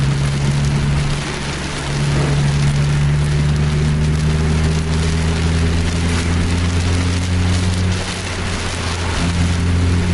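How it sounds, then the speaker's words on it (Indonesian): Steady heavy rain hisses across the whole clip, loud and unbroken, with a low bus engine drone running underneath. "Deras sekali hujannya."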